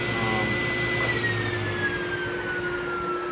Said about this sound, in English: Now you add the shop vac on top of that,